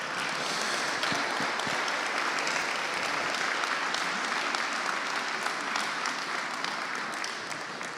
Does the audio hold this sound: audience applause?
yes